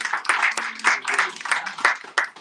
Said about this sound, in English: give Kim a round of applause.